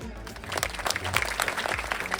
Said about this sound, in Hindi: 3 बार ताली बजाते।